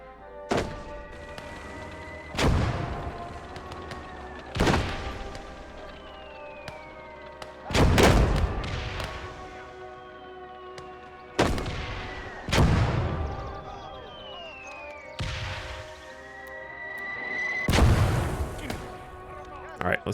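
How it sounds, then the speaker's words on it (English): AI-controlled mortar fire in the Gates of Hell war game: a series of heavy booming impacts spaced every couple of seconds, each with a rumbling tail, over a bed of battle noise and occasional talking. "Mortars, AI mortars."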